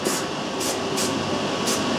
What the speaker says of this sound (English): just spray glue the underside of that flap